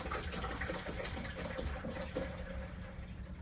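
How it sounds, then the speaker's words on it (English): Water running steadily into a kettle in a gate house, a continuous splashing, gurgling fill that stays fairly constant throughout, with no voices. "Put some more water in the kettle, cause the kettle is running dry."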